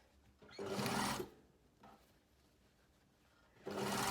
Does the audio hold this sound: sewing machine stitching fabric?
yes